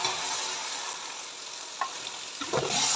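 Vegetables tossed into hot oil for vegetable pulao give a steady, bright sizzle throughout, close and even, with a few soft stirring knocks near the end and no talking.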